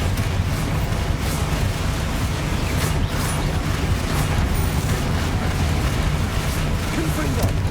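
Spell explosions from Confringo and Bombarda casts in Hogwarts Legacy, a dense, continuous roar of blasts and booms with sharp pops scattered across it, plus a low rumble, while a voice talks.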